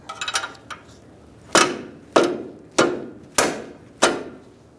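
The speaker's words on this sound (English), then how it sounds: "you just tap it up with a rubber mallet" Rubber mallet blows tapping a ball joint press into a control arm on a 2010-2013 Kia Soul, five evenly spaced dull thuds after a few quick light taps, close and clear.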